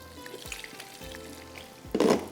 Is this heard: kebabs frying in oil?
yes